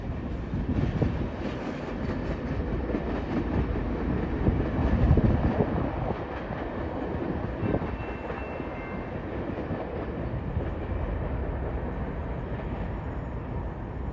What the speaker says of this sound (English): Bye-bye westbound BNSF manifest.